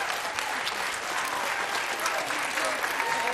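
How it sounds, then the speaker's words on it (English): An audience applauding on stage introductions at a school theatre production, many hands clapping in a continuous, even roar that stays steady for the whole span. "You can clap now."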